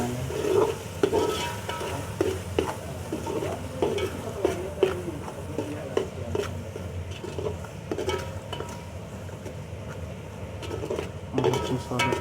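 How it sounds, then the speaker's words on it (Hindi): Turmeric masala frying and being stirred in a pan for aloo palak sabzi, a steady sizzle with repeated scraping strokes and light clinks of a spoon against the pan over about twelve seconds, close and moderately loud. "और इस मसाले को अच्छी तरह ब्राउन कर लेंगे, पका लेंगे अच्छी तरह"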